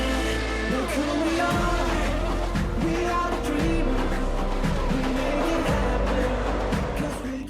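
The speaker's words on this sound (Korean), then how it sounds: "레이싱카의 짜릿한 속도 경쟁이 펼쳐지는 곳인데요" Race cars at speed on an F1 racing circuit, engines roaring continuously with repeated pitch sweeps as cars shift and pass, loud and sustained throughout.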